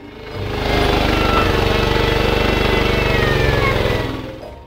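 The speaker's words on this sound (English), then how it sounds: "I may upgrade this little motor to probably a 14 horsepower pretty soon." A small sawmill's little motor, about seven and a half horsepower, runs steadily and loudly while cutting 2x4 lumber, a rough chugging drone rising at the start, holding for several seconds, then dropping away at the end.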